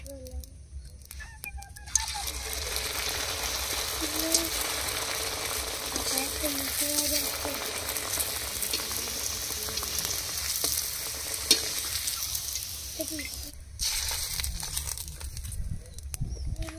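Stuffed turtle-shaped sweets frying in oil, a sustained crackling sizzle that swells after a quieter start, with faint crinkling and brief low voices near the ends.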